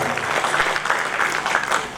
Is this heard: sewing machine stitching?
no